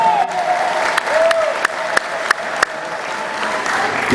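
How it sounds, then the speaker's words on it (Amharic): A church congregation claps together in steady, dense applause, with a few sharper individual claps standing out over the continuous patter throughout. "አጨብጭቡ ለእግዚአብሔር ክብር።"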